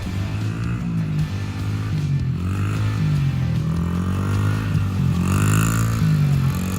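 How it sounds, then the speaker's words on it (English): A small dirt bike motorcycle engine runs steadily close by, its buzzy idle rising and falling in short revving swells throughout, with no voices over it. "here's a video of my son the first time he jumped on a motorcycle, a little tiny dirt bike"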